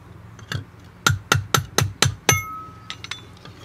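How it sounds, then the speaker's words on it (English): Hammer striking along the cut edge of a glass pane to knock off sharp bits, six sharp metallic-glassy taps in a steady rhythm, close and loud, with a faint ringing tail after the last blow. "you can use the hammer and just bang down along the edge, just to get rid of all the sharp bits"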